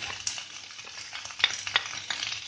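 Turmeric and chili powder sizzle in hot oil with potatoes and arbi in a pan, a soft continuous frying hiss broken by a few sharp stirring clinks, close and without voices.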